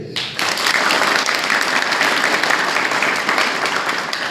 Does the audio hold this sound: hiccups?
no